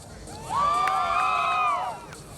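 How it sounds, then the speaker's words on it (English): A crowd at a medical college annual day celebration cheers and whoops, high sustained shouts swelling for over a second and then fading over a steady background of crowd noise. "can I hear your thunderous applause for this, please?"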